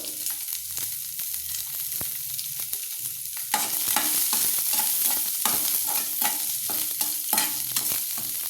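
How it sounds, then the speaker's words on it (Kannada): Onions frying and being stirred in a pan for a chana masala gravy: a soft sizzle at first, then louder, with repeated scraping stir strokes and clinks, no voices. "ಅಲ್ಲಿ ಈರುಳ್ಳಿ ಬೇಯ್ತಾ ಇದೆ"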